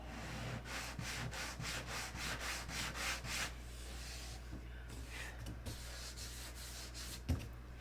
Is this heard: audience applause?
no